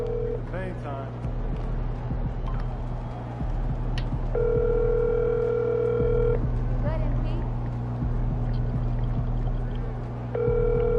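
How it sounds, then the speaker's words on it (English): Phone ringing tone in NBA 2K25 that goes unanswered, repeating steady beeps at regular intervals over game music and background sound, with people talking. "Bro, this dude don't ever want to pick up phone"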